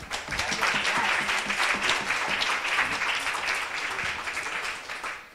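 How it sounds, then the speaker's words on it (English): A crowd at a college pitch competition breaks into a big round of applause to greet the returning judges, loud and sustained before tapering off at the end. "should we greet them with a huge round of applause?"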